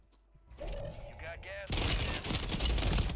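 Rapid bursts of automatic gunfire in Call of Duty Warzone (Modern Warfare III), loud and sustained, starting with a short volley and then swelling into dense, continuous shooting across the last half.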